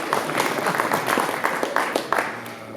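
Audience at a Republican state senate debate in Utah applauds, with steady sustained clapping from a crowd filling the room, close and loud throughout.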